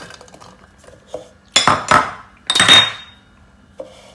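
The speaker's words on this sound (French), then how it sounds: "je vais commencer par hacher les morceaux d'oignon" Onion pieces chopped with a knife on a board, a few sharp close knocks and scraping strokes in separate bursts with short pauses between, loud and without talk.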